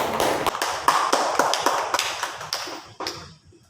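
Students in a chemistry micro-teaching class clap after a group answers, a burst of uneven hand claps that thins out and fades over a few seconds, with no talk over it.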